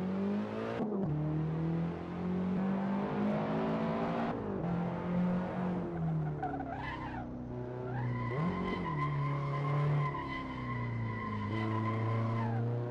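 A BMW M3 in Forza Horizon 4 revs and shifts through gears while its tires squeal in long skids, engine tone rising and falling steadily over several seconds with a sharp screech near the end.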